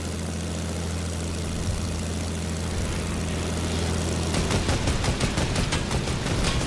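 Fortnite plane fight: a steady droning propeller engine hum is joined partway through by rapid bursts of gunfire, both fairly close and loud, with no talking.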